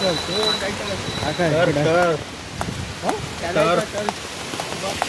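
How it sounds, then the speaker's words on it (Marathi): Steady rain patters and hisses on surfaces close by while people talk over it. "आता पाऊस पडतोय"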